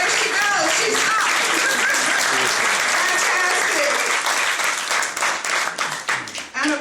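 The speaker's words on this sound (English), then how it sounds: "Would you stand and receive a round of applause?" Loud, sustained audience applause fills a signing ceremony for a senior citizen property tax relief act as an honoree stands, the clapping dense and steady before thinning into scattered claps at the end.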